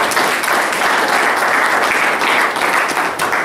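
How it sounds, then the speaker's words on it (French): An audience at an association gathering claps loudly and continuously, a thick, close wash of many hands that stays steady from start to finish without any voices. "je vous demande d'applaudir un peu pour lui"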